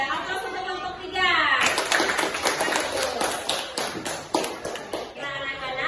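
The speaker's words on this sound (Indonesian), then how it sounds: "Aplaus untuk kelompok 3." Students in a classroom give a group a burst of applause, many hands clapping close by in a lively, uneven patter that swells after a brief spoken lead-in and fades near the end, with voices over the clapping.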